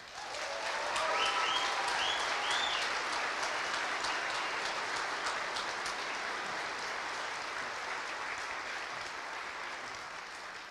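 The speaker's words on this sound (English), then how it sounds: "How about a big round of applause for our King Tech teachers?" A crowd at a high school graduation ceremony gives long, loud applause for the teachers, a broad roar of many hands that swells early, then holds and slowly thins, with a few brief whistles or cheers near the start.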